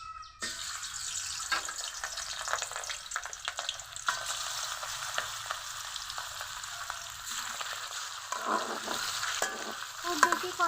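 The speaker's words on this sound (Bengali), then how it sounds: "এখন মাছগুলো ভেজে নিব।" Fish pieces rubbed with salt and turmeric fry in hot oil in a kadai, giving a steady, close, bubbling sizzle that holds for the whole stretch, with occasional stirring and scraping noises.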